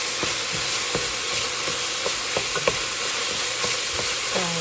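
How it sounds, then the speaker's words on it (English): Steady sizzling of food frying in a pan, with occasional light clicks and stirring scrapes over a constant crackling hiss. "Frying up."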